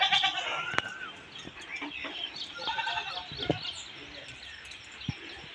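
A peacock calls out in loud, sharp, repeated cries near a house, over faint background rustling and other distant animal sounds.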